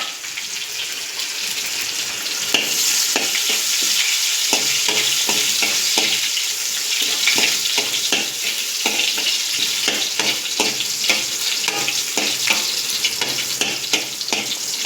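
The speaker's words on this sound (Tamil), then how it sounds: "கடுகு பொரிஞ்ச உடனே 2 சீரகம் பாருங்கள், வரமிளகா, மோர் மிளகா வத்தல், கருவேப்பந்தழை இப்போ போடுறோம்" Mustard seeds, cumin, dried red chilies, buttermilk chilies and curry leaves sizzle in hot oil, giving a loud, steady frying hiss with dense crackling pops that runs throughout with no talk.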